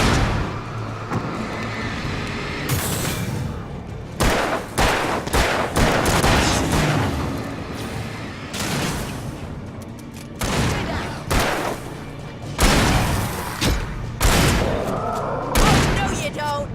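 Bursts of gunfire from the video game Alan Wake ring out in loud, uneven volleys with sharp cracks and rolling booms, mixed with game ambience and occasional voices.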